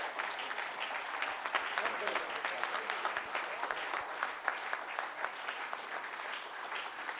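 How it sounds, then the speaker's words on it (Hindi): Steady applause from an audience at a Hindi speech gathering, a dense crackle of many hands clapping sustained throughout, fairly close and even. "तालियां बजाएं साहब"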